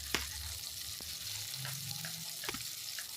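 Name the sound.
fritters (bora) frying in a pan while being turned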